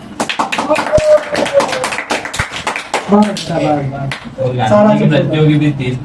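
Students clap in a classroom in quick, loud bursts of sharp slaps, mixed with voices and some speech over the clapping.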